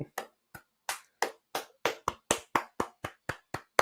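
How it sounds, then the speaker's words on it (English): A small audience at an International Booker Prize livestream gives a short round of clapping, about fifteen separate, fairly close claps that come faster and tighter toward the end, with no voices over them. "Everyone give it Simon a clap."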